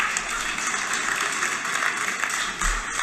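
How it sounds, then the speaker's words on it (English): An audience claps in a hall, a steady, dense wash of many hands that keeps going throughout and stays fairly even in loudness. "Now the audience is clapping"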